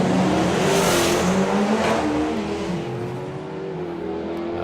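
Doorslammer drag racing cars, a Dodge among them, launching hard off the start line: a loud, close engine roar that climbs steadily in pitch as the cars accelerate away, with no voices.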